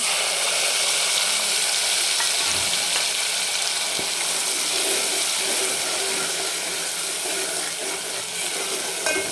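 Ground onion and coconut masala paste sautés in a pan for a spicy murrel fish curry, a steady close sizzle and frying hiss with occasional stirring clicks, no talk.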